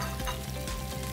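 Carrot, capsicum, cucumber and onion fry in a pan on a Beximco LPG gas stove, giving a steady, close sizzle that runs unbroken without any talk.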